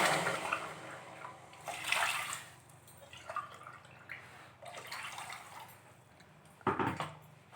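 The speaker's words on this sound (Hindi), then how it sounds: "1 कप चीनी है तो इसी कप से हम 3 कप पानी डाल देते हैं।" Water poured from a cup into a kadhai holding about a cup of sugar on the stove, soft splashing bursts in a few separate pours, quiet and close with faint gaps between.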